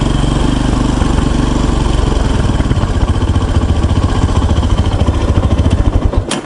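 A motorcycle engine idles loud and close with a steady low throb, its revs settling lower as it runs on, with a brief click near the end.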